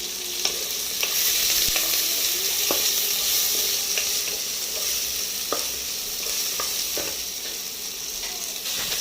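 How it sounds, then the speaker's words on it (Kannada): Mustard seeds, curry leaves and onion frying in hot oil give a loud, continuous sizzle and crackle, with scattered sharp clicks of a spoon stirring against the pan. "ಎಣ್ಣೆ ಬಿಸಿ ಆದ ಕೂಡಲೇ ಸಾಸಿವೆ, ಅದ್ರ ನಂತರ ಕರಿಬೇವು, ಒಂದು ಈರುಳ್ಳಿ ಹಾಕಿ ಫ್ರೈ ಮಾಡ್ಕೊತೀನಿ."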